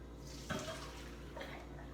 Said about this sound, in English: once your spaghetti's done, you pour it through a colander